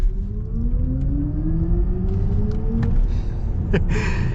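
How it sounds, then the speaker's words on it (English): A 2022 BMW iX xDrive50 electric SUV accelerating in sport mode, its synthetic drive tone rising steadily in pitch over low road and cabin rumble, heard from inside, with no talking. "It has this really cool acceleration sound."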